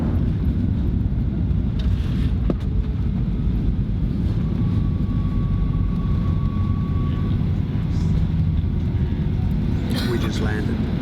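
Steady low broadband roar of an airliner cabin in flight, a dense constant drone filling the whole clip with a faint tonal hum mid-way and brief light clicks near the end.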